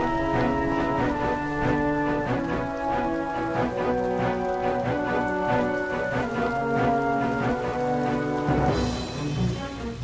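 Heavy rain falls on a farm in spring, a steady dense patter heard over a sustained tonal musical background.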